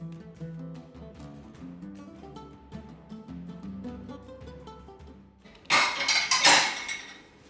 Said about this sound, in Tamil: எல்லாமே பாத்திரம்லாம் எடுத்து டிஷ் வாஷரில் போட்டுட்டேன்.